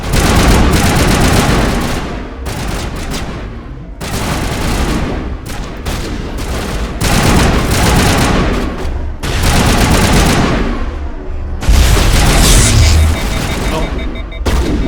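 Sustained heavy gunfire in Mass Effect Legendary Edition, with dense overlapping shots and booms arriving in waves, short lulls between bursts, and a loud impact near the end. Voices talk over the shooting.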